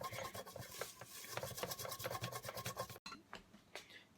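Someone scrubs built-up residue inside a water distiller with quick, close, rasping strokes in an irregular rhythm, with a short pause near the end.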